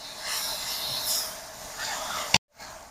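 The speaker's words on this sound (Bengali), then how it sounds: "মশলাটাকে আমি খুব ভালো করে কষে নেব।" Spice paste for a chalkumra (ash gourd) curry sizzles and fries in oil in a pan, a steady close hiss that swells and fades, then cuts out abruptly near the end.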